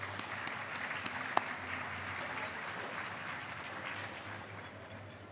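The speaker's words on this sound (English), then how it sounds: "Let's give them a round of applause." An audience at a conference luncheon applauds for the host organisation, a soft, even wash of clapping heard from a distance that fades slightly as it ends.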